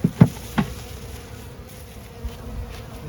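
Honey bees from a newly installed package buzz in a low continuous hum, broken by a few sharp knocks and thumps near the start.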